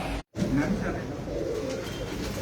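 Flying and breeder pigeons at a pigeon sale centre coo softly nearby after a brief dropout, with voices faintly underneath.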